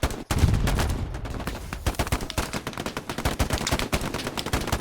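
Rapid gunfire in the World War II shooter Hell Let Loose during a fight at a bridge, a dense stream of sharp cracks and automatic bursts, loud and close, continuing without pause.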